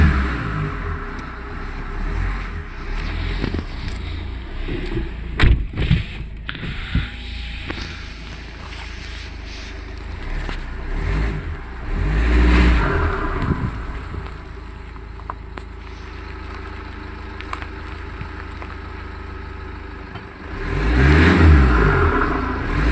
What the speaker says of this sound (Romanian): Hai să auzi cum se aude motorul.